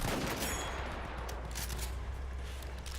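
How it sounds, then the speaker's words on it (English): Enemy machine gun fire in the Battlefield 1 Soissons map, a dense, continuous crackle of automatic shots blending with battlefield din, steady and fairly loud for the whole stretch. "enemy machine gun!"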